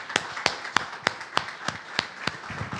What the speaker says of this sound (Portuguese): Palmas a esse nome.